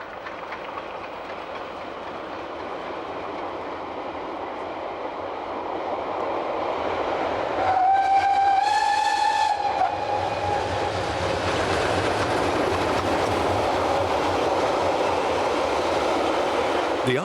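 RhB G45 steam locomotive 108 hauling a train on the Engadine line, a rolling rumble with rhythmic wheel noise building as it passes, and a bright whistle blast in the middle, no voices.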